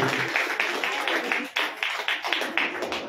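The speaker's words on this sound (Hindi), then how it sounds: "चलो आप सभी लोग जोरदार तालियां बजा दो अपने लिए" An audience applauds the founder members at a community gathering, a steady patter of claps at moderate distance for a few seconds without pause.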